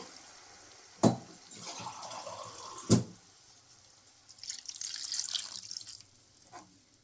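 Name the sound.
water poured into cooking pot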